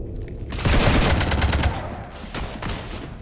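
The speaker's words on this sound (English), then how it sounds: "You want to stop shooting up my ship?" Heavy bursts of gunfire shooting at a ship in the Mass Effect 3 video game, a dense loud volley followed by a few shorter sharp bursts.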